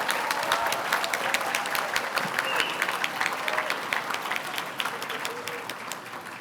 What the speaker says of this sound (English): Can we please give a round of applause to this group of nominees?